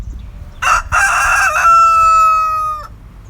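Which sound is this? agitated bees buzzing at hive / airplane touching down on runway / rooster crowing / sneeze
rooster crowing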